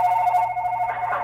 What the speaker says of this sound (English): No, my phone went off.